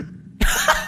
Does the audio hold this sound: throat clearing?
yes